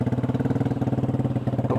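A motorcycle fitted with a CLD aftermarket exhaust runs at a steady idle, its low, throbbing exhaust pulses repeating rapidly and evenly, close and fairly loud, with no talk.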